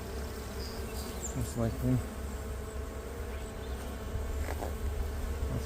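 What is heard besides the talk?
honey bees buzzing around beehive boxes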